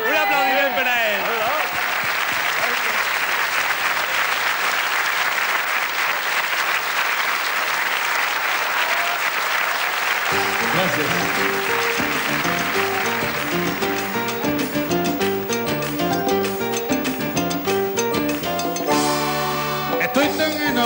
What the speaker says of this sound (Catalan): Un aplaudiment per a ell.